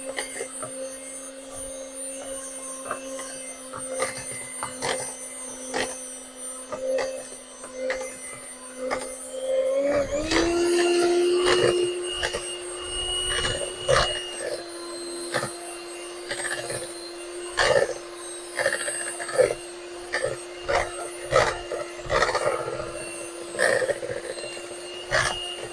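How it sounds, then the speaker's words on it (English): An electric mixer whirs steadily through chocolate cream cheese brownie batter, a constant motor hum that shifts pitch partway through, with scraping and knocking against the bowl on top. "Set your mixer aside, your mixy mixer."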